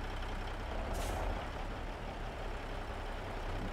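A heavy truck pulling a trailer in American Truck Simulator rumbles steadily while it maneuvers, with a brief hiss of air brakes near the start.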